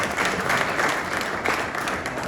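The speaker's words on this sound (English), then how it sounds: "So if you could just give a hand clap for those people." An audience claps together after being asked to honor someone at a senior testimony event, producing a short burst of dense applause that stays steady for a couple of seconds.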